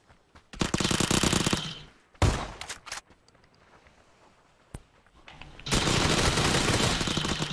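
Uzi submachine gun in a video game firing two long rapid bursts, loud and close, separated by a few single sharp shots and quieter gaps.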